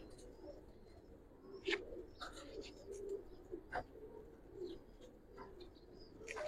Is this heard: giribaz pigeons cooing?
yes